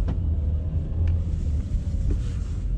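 A 2010 Volkswagen Tiguan 1.4 TSI pulling away: a steady low engine rumble heard from inside the car, mixed with wind noise, continuous and fairly loud.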